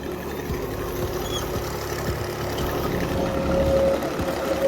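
A tractor engine runs in a farm field with a steady low rumble and chugging pulses, growing slightly louder toward the end, with no talking.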